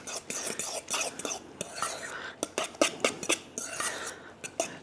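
Spinach and parmesan stuffing being mixed in a bowl, with repeated clinks and scrapes of a utensil against the bowl in an irregular rhythm, some louder knocks, close and fairly loud.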